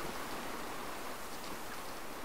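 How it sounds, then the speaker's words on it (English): Steady, dense rain pours down in the video game Generation Zero, a continuous even hiss with no pauses and no voices. "how is it raining this much?"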